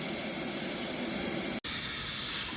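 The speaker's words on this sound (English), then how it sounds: "the whistle valve, which is leaking a small amount of steam" Steady hiss of steam leaking from a steam locomotive's whistle valve, continuous and close, broken by one sharp instant cutout before the hiss resumes unchanged.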